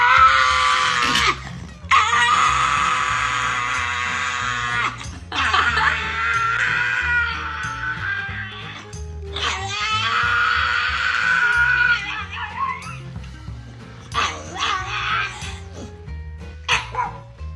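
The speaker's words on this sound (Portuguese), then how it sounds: "Se você visse um cachorro gritando desse jeito do lado da sua casa, do seu apartamento, você não ia achar que era maus-tratos." A pug screams and vocalizes loudly at close range in long, piercing, wailing bursts with short breaks between them, alone with no talking over it.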